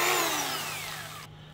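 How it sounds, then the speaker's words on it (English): A DeWalt 3/8-inch carpenter's drill (6.7 amp, 1200 RPM) spins down alone, its whine falling steadily in pitch before cutting off abruptly near the end. "3/8 inch Carpenters drill."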